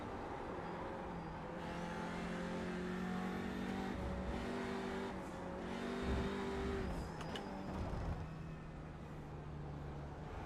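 Race car engine in the sim racing game iRacing, droning steadily with shifting pitch and revving under acceleration, loud and continuous throughout with no talking.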